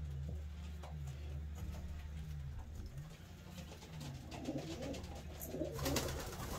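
A racing pigeon named Apache, still molting and carrying a couple of white flight feathers, coos in low, repeating rolling phrases close by, faint background rustle and a brief clatter near the end.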